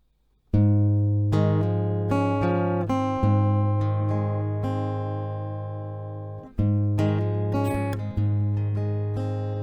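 An acoustic guitar plays a passage from a song, strummed chords and picked notes ringing out clearly and close, with a short pause before the phrase resumes.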